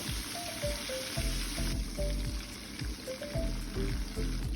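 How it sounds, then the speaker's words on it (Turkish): Semolina and peanuts roasting in margarine in a pan over a lowered flame for Turkish irmik helvası, a steady close sizzle with rhythmic scraping and stirring throughout, no talk. "Ve ocağımızın altını kısarak irmiklerimizi iyice kavurmaya başlıyoruz."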